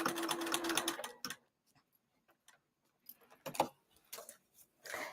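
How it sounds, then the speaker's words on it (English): A sewing machine stitches the exterior of a cross-body bag, opening with a fast, loud run of needle clatter, then falling to scattered short bursts and faint clicks. "So I'm going to stitch this way."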